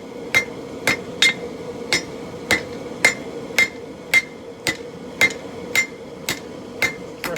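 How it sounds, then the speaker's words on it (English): Evenly spaced hammer blows ring out on the horn of an anvil while a steel spike is drawn to a point for a tomahawk forged from an old ball peen hammer, about a dozen sharp metallic strikes at a steady pace, close and clear. "I can use the horn of the anvil to draw it out a little bit faster"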